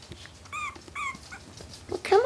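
High, wavering puppy whimpers and a few yips come in short bursts, the last one louder and closer, with faint background noise between.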